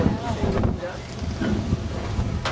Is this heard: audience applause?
no